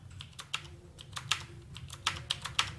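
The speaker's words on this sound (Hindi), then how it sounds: "टैब प्रेस किया" Keys clack on a computer keyboard during work in a word processor, a series of crisp, close, fairly soft taps at an irregular rhythm over faint room hum.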